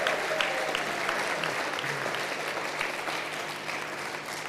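Audience at a state Democratic party convention applauding, a broad sustained wash of clapping that fills the hall steadily for several seconds with a few faint voices underneath.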